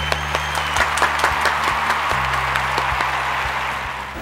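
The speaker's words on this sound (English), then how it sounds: "I think that deserves a round of applause." A round of applause from a group, with close, crisp individual claps standing out over a steady clapping bed, fairly loud and without talk.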